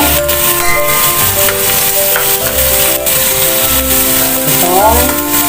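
Meat sizzling loudly in a hot pan while cooking bihon, a steady close frying crackle with stirring clatter throughout.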